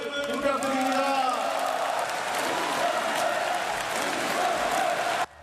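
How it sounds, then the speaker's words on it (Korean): A crowd applauding and cheering loudly and continuously to welcome the South Korean president at a political event, with shouts rising over sustained clapping before it cuts off abruptly at the end. "큰 환영의 박수를 부탁드립니다"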